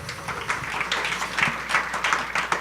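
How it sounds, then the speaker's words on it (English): Audience applause at a panel forum following a screened video, a brief burst of many hands clapping at moderate volume, fairly even throughout. "Lots of applause."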